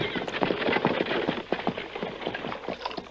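Horses' hooves clip-clop steadily at close range in a 1942 radio western, an irregular patter of knocks over a constant background hiss with a faint voice now and then.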